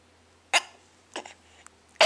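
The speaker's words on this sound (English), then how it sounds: "Oh, now you got the hiccups." Three sharp, separate hiccups from a woman, close and abrupt, spaced unevenly across a couple of seconds with near silence between them.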